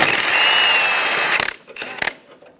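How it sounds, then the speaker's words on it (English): A 21mm socket on a power tool spins a jam nut off the inner tie rod of a 2012-2020 Chevrolet Sonic steering rack: a bright whirring burst, then a few sharp metallic clicks and taps. "Remove the jam nut from the inner tie rod using a 21mm socket."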